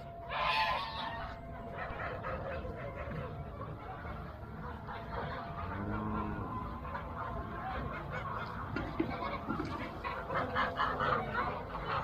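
White geese honk repeatedly nearby, raucous calls overlapping in a noisy flock, with a few other bird sounds mixed in.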